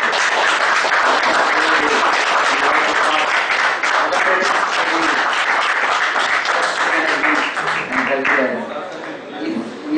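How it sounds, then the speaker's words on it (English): A hall audience at a Chartered Accountants' Day celebration gives loud, sustained applause, dense clapping that carries on for several seconds before tapering off. "A big applause to the CA Ramakrishnan KP."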